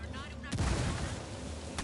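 A frag grenade goes off in Ghost Recon Wildlands, a single heavy explosive boom with a rumbling tail in a tactical firefight, followed by a sharp crack near the end, all under faint game ambience.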